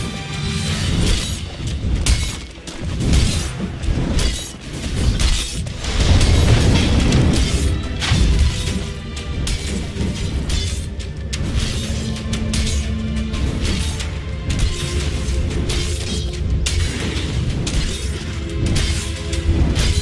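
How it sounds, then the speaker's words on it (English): Dota 2 match with a tower under attack and falling: dense, continuous layered combat noise of crashing impacts, booms and shattering hits over game music, loud throughout. "Dire's middle tower is under attack."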